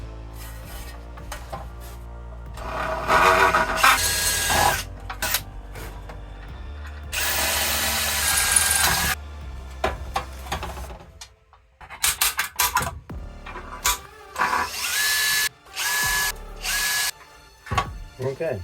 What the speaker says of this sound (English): Now we can properly drill it.